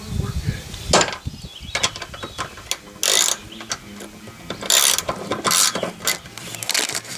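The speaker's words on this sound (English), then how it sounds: "So if I hold this stationary and turn the bolt," Bolt turned with a ratchet wrench while fixing trailer lighting grounds on an Ice Castle fish house: rapid bursts of close, loud clicking ratchet pawl, in several runs separated by short pauses.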